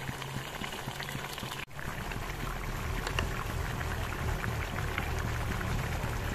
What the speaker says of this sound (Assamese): এতিয়া 5 মিনিট আকৌ উতলিবলৈ দিম